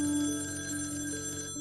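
An old-style telephone rings in a sustained, steady tone, fairly loud and close, with the ring cutting off near the end and no voices present.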